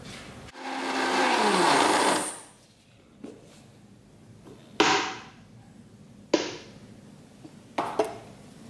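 An electric blender grinding ragi and banana in a grinder pot, a loud whirring burst of almost two seconds that winds down in pitch, followed by several short, sharp pulses separated by quiet gaps.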